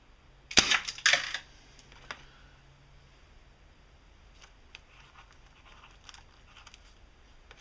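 A 1984 Crosman 38T air pistol fires once, a sharp close crack with a quick rattling follow-up, then near silence with faint ticks in a cool room.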